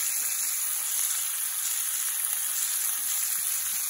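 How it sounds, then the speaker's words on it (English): Bacon browning in a cast iron skillet gives a steady, close sizzle and crackle of frying fat that runs unbroken throughout, with no voices over it. "I'm browning up the bacon in a cast iron skillet."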